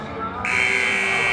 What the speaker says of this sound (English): we've got our buzzer to resume action